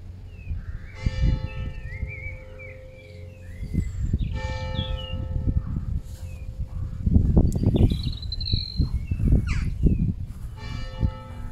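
Church bells ring out in a rural graveyard, clear repeated peals over steady outdoor ambience with birds chirping and calling throughout.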